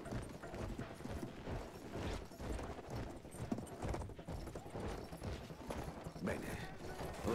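Horse hooves galloping in the first-person shooter Battlefield 1, a steady clip-clop gait beneath continuous game noise, with faint distant gunfire and a voice talking over it.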